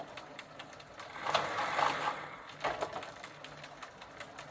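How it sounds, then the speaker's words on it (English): Pawls click inside a Sturmey Archer bicycle hub in third gear, a faint, fast ratcheting chatter that swells in two short bursts over steady mechanical whirring. "And now I can hear some of the pawls making a clicking sound."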